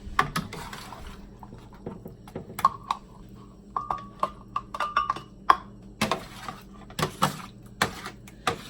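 Spoons scoop and clink against a pot and bowl while tomato spaghetti sauce is transferred, a series of sharp irregular taps and scrapes close by, with a light high clink partway through.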